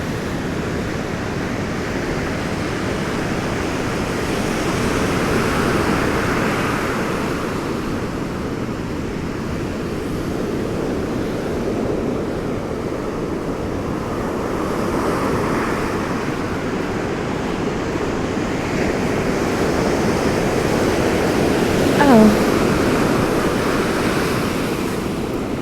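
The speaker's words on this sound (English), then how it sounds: "Oh, the waves are so loud today." Ocean waves crashing on a misty beach, a loud, continuous surf roar that swells and recedes in slow surges, mixed with some wind noise, with no talking.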